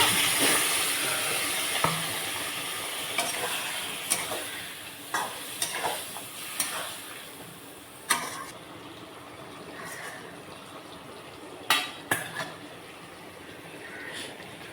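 Water goes into a pan of frying spiced drumstick curry, setting off a steady hiss of sizzling broken by repeated scraping and clinking as the mixture is stirred, fairly close and with no talking.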